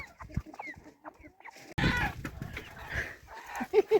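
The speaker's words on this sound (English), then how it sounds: "Amon is having a hard time catching these chickens." Free range chickens cluck and squawk nearby as someone tries to catch them, with sudden scuffling and flapping bursts, agitated clucks scattered throughout and a sharp loud rustle midway.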